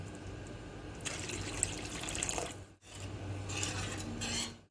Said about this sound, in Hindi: आखिर में हम इसमें 1 कप पानी ऐड कर देंगे।